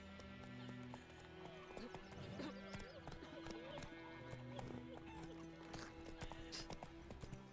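Horse hooves clip-clop at a steady walking pace on a road in The Witcher 3, with occasional neighs, faint game music and someone talking.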